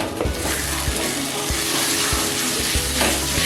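Dal bora curry sautéing over low heat, a steady close sizzle and fry hiss throughout with a few soft stirring knocks at intervals.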